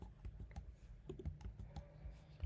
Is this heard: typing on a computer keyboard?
yes